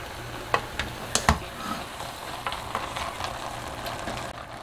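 Dried radish greens sizzle and stir-fry in perilla oil over low heat with salted shrimp, giving a steady close crackle. Occasional sharp ticks of a utensil scraping the pan cut through, with no talking.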